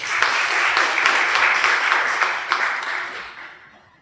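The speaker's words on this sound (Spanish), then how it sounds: "Un aplauso también para toda la mesa de honor y para ustedes" An audience applauds the head table at a journalism event, steady clapping from a crowd that swells briefly and then fades away toward the end.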